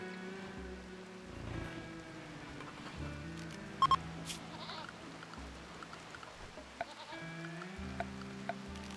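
A goat bleats repeatedly in RimWorld, short wavering cries rising over a soft patter of rain, fairly close and clear, with a few sharp clicks scattered through and no talk.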